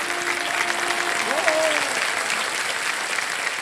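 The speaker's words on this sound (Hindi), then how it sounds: "इनके लिए एक बार तालियां" A studio audience on the KBC quiz show applauds in a dense, steady wash of clapping that fills the whole stretch, with a brief tonal swoop partway through.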